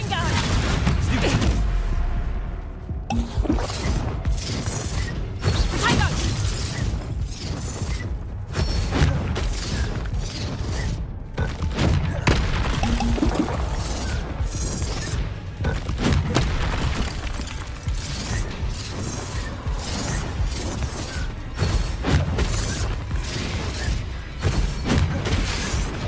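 Blasting-spell explosions in Hogwarts Legacy combat, a run of heavy booms and bursts at irregular intervals over steady battle rumble, loud and close, with character voices shouting between them.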